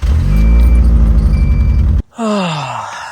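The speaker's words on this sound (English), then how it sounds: "It's running really well. That sounds like a normal car!" A 1987 Honda Accord engine runs loud and close with a deep, steady rumble, then cuts off abruptly and is followed by a short falling whine.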